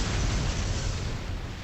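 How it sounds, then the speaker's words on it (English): A dense, roaring explosion from the video game Trails to Azure fills the moment, a sustained loud rumble without talk. "Talk about an explosion"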